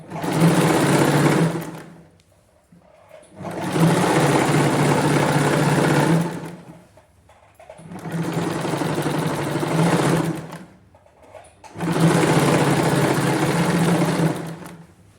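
A domestic sewing machine stitches the seams of palazzo pants in four loud, steady bursts of rapid whirring, each lasting a couple of seconds with short quiet pauses between them.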